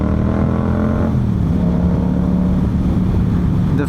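Yamaha MT-07 motorcycle engine with an Akrapovic full exhaust, close and loud: a deep throbbing rumble with a steady droning tone that shifts slightly in pitch early on, then settles into an even idle.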